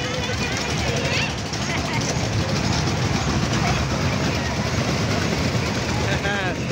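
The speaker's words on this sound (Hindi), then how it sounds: "चल गए ट्रेन चल गए।" A train moving steadily at a Ganga Pur fair in Nepal, with a continuous loud rumble and rattle of cars, up close beneath constant crowd chatter and talking voices.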